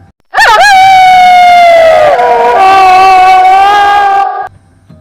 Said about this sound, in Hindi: फिर अचानक बाहर से कुत्ते और जानवरों की रोने की आवाजें आने से